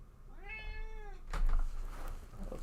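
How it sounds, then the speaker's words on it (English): A cat gives one clear, drawn-out meow close by, followed by a soft thump and quiet room noise. "Cat."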